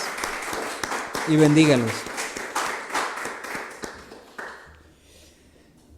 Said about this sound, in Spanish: Denle un fuerte aplauso ahí en sus hogares.